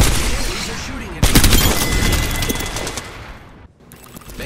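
Enemy gunfire in Apex Legends, loud bursts of rapid automatic shots that fill the scene, with a sharp jump in intensity partway through before thinning and briefly dropping out near the end.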